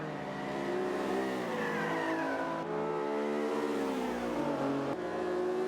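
BMW race car engines rev and shift in the Forza 5 racing game, a loud steady roar with rising pitch sweeps and gear changes, several cars layered together, no talk.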